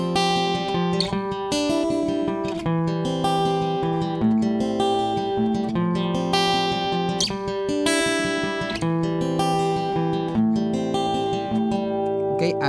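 Acoustic guitar picked in a steady right-hand arpeggio pattern for a song, single notes rippling over sustained chords in an even, close, continuous rhythm with no talking.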